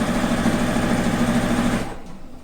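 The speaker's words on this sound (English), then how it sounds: "now it's just smooth sailing, easy sewing down to the edge" A sewing machine runs in one loud continuous hum while stitching a sleeve seam on a coat made from patchwork quilt fabric, then tails off into quiet near the end.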